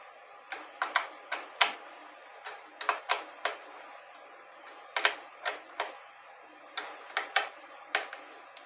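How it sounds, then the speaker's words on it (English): Guitar tuners are tightened on a Fender Player Mexico headstock, giving sharp, close ticks and clicks in irregular bursts, fairly quiet with no talk. "Snugging up some tuners before I restring."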